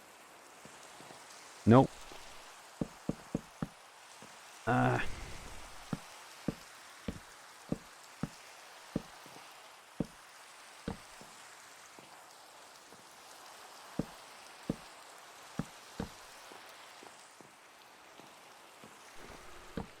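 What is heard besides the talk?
rain falling in the video game Minecraft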